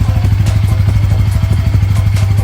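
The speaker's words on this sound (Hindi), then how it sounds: "एग्जॉस्ट नोट दिखा रही हूँ, तो कुछ यहाँ पर आपको भारी भरकम" A 2025 Bajaj Pulsar N160's deep, throaty exhaust idles steadily nearby, its low pulsing rumble continuous and loud throughout.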